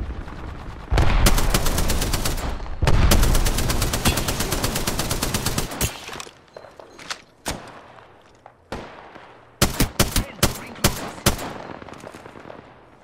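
Apex Legends gunfire: long loud bursts of rapid automatic fire up close, then scattered single shots and quick volleys that thin out and grow fainter, with no talk over them.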